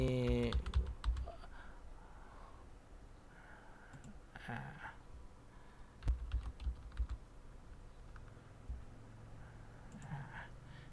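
Computer keyboard keys tapped in short, irregular bursts of clicks while entering names, fairly faint and close, with someone speaking at times between the bursts.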